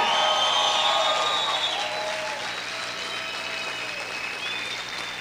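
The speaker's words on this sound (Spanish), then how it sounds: "Si yo fuera usted, gritara y aplaudiera fuerte al Rey." Church congregation applauding loudly with scattered shouts and whoops, a dense steady roar of clapping and raised voices that eases slightly over five seconds.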